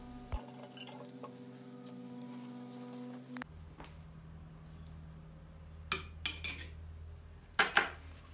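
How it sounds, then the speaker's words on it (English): Stir bar dropped into a glass two-neck round-bottom flask holding ethylene glycol, giving faint, close glassy clinks and a short rattle in separate small bursts over a quiet lab hum, with no talking. "We throw in the stir bar to ensure even boiling."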